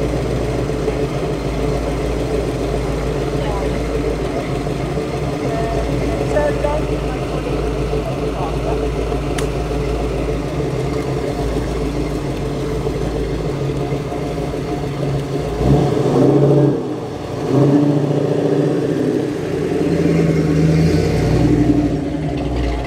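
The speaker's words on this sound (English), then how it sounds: "Got a bullet spec Mustang here" Ford Mustang fastback at a classic car show idling with a low rumble, then blipping into brief revs near the end, with people talking around it.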